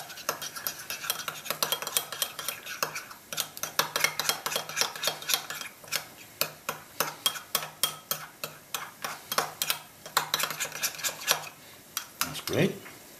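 A spoon beats mint sauce into Greek yogurt in a bowl with quick, rhythmic clinks and scrapes against the sides. The strokes run steadily, then slow near the end.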